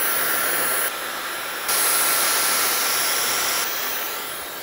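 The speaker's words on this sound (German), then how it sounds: "Ich nehme jetzt mal hier erstmal einen Dyson-Föhn." A Dyson hair dryer on its first setting blows steadily while drying hair at the roots. It gives a loud, close, even rushing whoosh that shifts in intensity a few times, with no talking.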